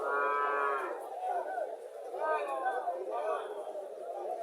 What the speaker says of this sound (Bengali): ফিজিয়ান জাতের গাভী,